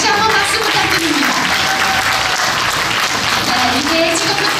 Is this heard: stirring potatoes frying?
no